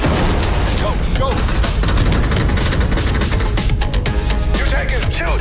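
Gunfire in a VR shooter game: dense, continuous loud shots and bursts layered over one another, with people talking over the combat.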